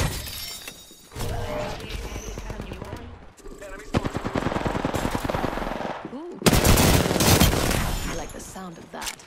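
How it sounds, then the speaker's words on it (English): Video game gunfight with rapid automatic bursts and crackling shots, some sounding like shattering impacts, coming in loud waves separated by brief lulls. "Getting shot at. Shots fired at me."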